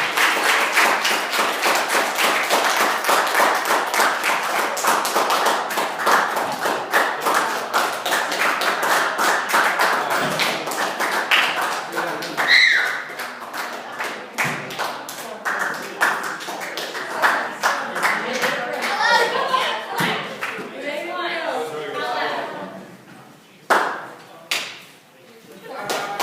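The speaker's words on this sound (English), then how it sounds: "Would you guys please give her a round of applause?" Audience applause for a speaker at a 1st National Bank talk, a dense, steady clapping from a room of listeners that thins into scattered claps and a few thuds toward the end, with some voices mixed in.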